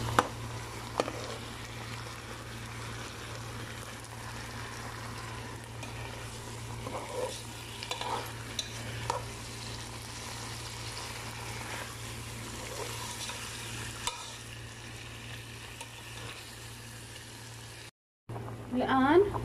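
Tomato paste being stirred into a frying eggplant stew, soft sizzling and scraping spoon strokes in a pot, with someone speaking over the cooking.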